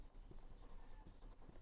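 Pen or chalk writing during a Hindi-medium maths lesson on quadratic equations, a steady scratchy stroking sound heard close and quiet, running continuously with short strokes and taps throughout.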